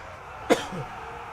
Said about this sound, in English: Excuse me, I'm going to cough.